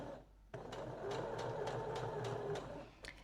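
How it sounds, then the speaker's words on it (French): A sewing machine stitches a fabric dart, starting abruptly and running in a steady, fast mechanical whir with a regular clicking pulse for a few seconds before stopping, faint and close. "je vais venir coudre ma pince à 7 mm le long du bord coupé ici"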